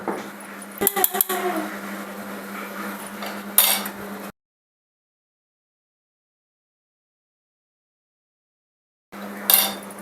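A spoon clinks and scrapes against a vessel while panakam, a sweet jaggery drink, is stirred, with a few sharper taps early on and a steady low hum beneath, then silence before brief clinking resumes at the end.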